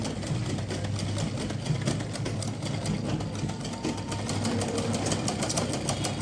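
A sewing machine runs steadily while stitching the piping of a baby suit, a continuous, fast mechanical rattle heard close up at moderate volume.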